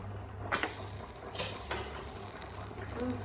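Dry chilies fry in just two or three drops of oil in a pan, a quiet crackle and sizzle with a few sharp clicks of stirring scattered through it.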